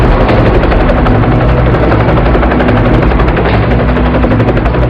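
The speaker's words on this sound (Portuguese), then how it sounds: "Os helicópteros pousaram em segurança." Military helicopters landing, a loud, continuous close rotor roar with rapid blade chop and heavy low engine rumble filling the whole stretch.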